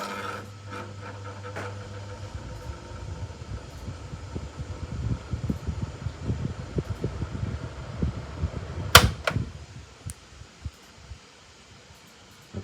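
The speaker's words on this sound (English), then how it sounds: "National F-129RA old fan startup sound with iPad recording. Only happens on speed 1." A National Pana Cycle F-129RA box fan, an old model, starting up on speed 1 gives a low steady hum at first, then a run of irregular clicking and rattling with one sharp knock near the end, close and fairly quiet.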